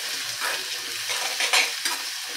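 Gobi manchurian with chopped spring onion is tossed and stirred in a pan, giving soft sizzling and a few brisk scraping strokes, close by.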